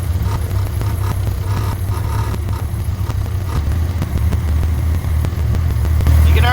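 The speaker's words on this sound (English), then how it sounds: "You can already hear that the engine is running much smoother" A newly installed engine in a Barn Sprite idling steadily with a deep, even low rumble and light mechanical clatter, close and loud throughout.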